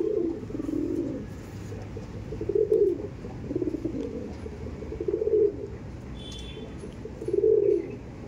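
Sialkoti pigeons cooing in a loft, soft low rolling coos repeating every couple of seconds close by, over a faint background hum.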